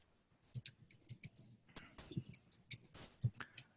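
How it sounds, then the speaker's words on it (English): Scattered keyboard typing during an online call, irregular close clicks and taps in short bursts over a quiet background. "I think you're typing"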